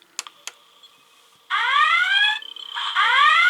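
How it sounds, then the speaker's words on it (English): Two quick clicks, then a Playmates Star Trek USS Enterprise NCC-1701-D toy's electronic red alert alarm: a loud rising whoop tone sounds twice, with a short stutter between the blasts. "Of course, red alert."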